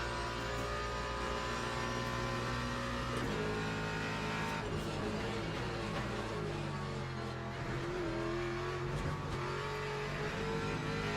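Mustang race car engine in Le Mans Ultimate, revving hard through gear changes and easing off for a chicane, a steady close roar with pitch rising and falling and faint tire squeal.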